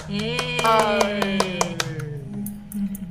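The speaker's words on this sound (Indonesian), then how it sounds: "Kasih tepuk tangan untuk Narido" Students in a classroom clap for a classmate who has just presented, with scattered, uneven claps ringing out over voices talking and calling out together.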